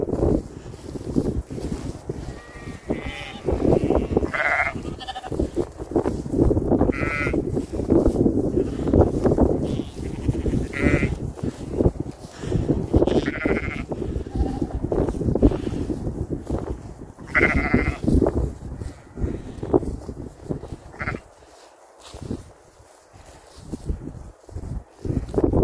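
Sheep in a field near Stonehenge bleat repeatedly, several overlapping calls at varying distances, over heavy wind buffeting the microphone and rustling outdoor noise.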